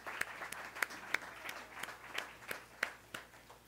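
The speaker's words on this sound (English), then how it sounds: "I'd like to give them a round of applause because this took a lot of work" Scattered clapping for staff at a school of social work mural unveiling: a handful of sharp, separate claps at an uneven rhythm, fairly quiet and distant, over a low room hum.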